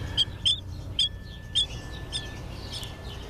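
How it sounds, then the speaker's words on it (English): Baby birds being rescued chirp in a series of about five short, high, bright calls spaced evenly apart, close and clear over a faint low background hum. "Very sweet little birds."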